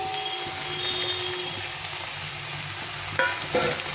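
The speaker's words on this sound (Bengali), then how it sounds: "এখন আমি এর মধ্যে এই ভেজে রাখা আলুটা দিয়ে দিব" Fried potatoes go into a thick curry masala cooking down in a pan, and a continuous close sizzle and fry runs throughout, with a couple of brief scraping stirs near the end and no voices.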